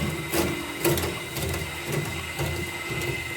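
Orange polypropylene scraps being chewed up in a small plastic shredder, giving a steady mechanical grinding hum broken by repeated crunching bursts and clatter, up close and fairly loud.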